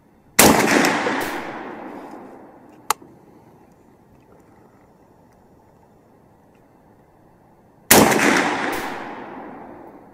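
Two loud, close shots from a Bear Creek Arsenal .458 SOCOM rifle at an outdoor range, several seconds apart, each with a long ringing echo, plus a small sharp click between them.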